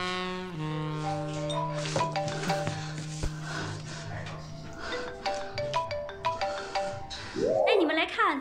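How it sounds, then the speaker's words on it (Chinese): A phone rings in a domestic scene from a Chinese martial arts film, giving a steady electronic tone for several seconds under and between people talking, with some clatter of household items. "电话响"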